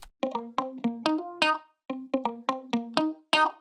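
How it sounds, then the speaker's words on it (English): Funky muted electric guitar loop sample, dry and unprocessed, plucking short choppy chord stabs in a steady syncopated rhythm with brief gaps between phrases. "It's a really funky kind of muted guitar loop from our pack."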